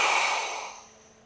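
One long, deep exhale through the mouth during a hamstring stretch, a close, breathy rush that starts strong and fades gradually over about a second.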